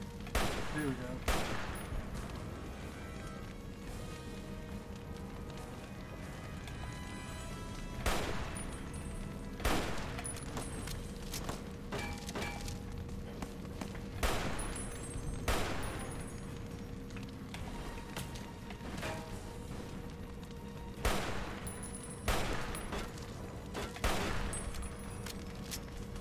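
Gunfire from Fallout: New Vegas, a steady stream of loud, sharp shots with heavier bursts at intervals over continuous game ambience, running through the whole stretch without pause.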